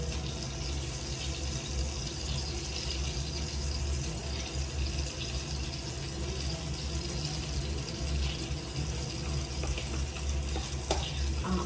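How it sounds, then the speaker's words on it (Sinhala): Milk and scraped coconut going into a cooking pot: a steady, moderately loud wash of bubbling, sizzling and stirring with a watery hiss, continuous throughout with no talking. "දැන් මම කිරි ටිකක් දාලා කොටාගත්ත පොල් ටිකක් දානවා."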